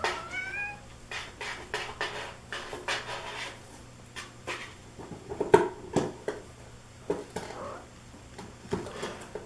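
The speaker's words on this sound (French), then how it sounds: "la maman a crié parce que les griffes sont pointues" A Siamese mother cat cries out among her 46-day-old kittens, with repeated short, close yowls and scattered scratchy, scuffling noises against a low, steady background hum.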